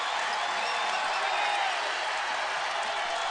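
The Carver-Hawkeye Arena crowd roars at an Iowa women's NCAA tournament basketball game, a dense, sustained wall of cheering and applause throughout.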